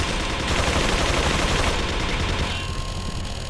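Dense, continuous gunfire from the game Resident Evil 4 fills the whole stretch at steady loudness, a rapid barrage of shots with no talk over it.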